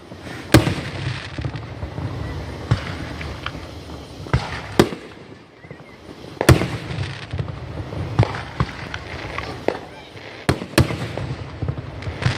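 Fireworks burst repeatedly at a 4th of July show in Booneville, with sharp pops and booms scattered irregularly over a steady crowd murmur, some near and loud, others more distant.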